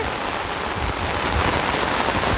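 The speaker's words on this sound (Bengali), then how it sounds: "খুব বৃষ্টি নামছে এত বৃষ্টি" Heavy rain pours down in a dense, steady wash of drops striking surfaces nearby, loud and continuous with no voices.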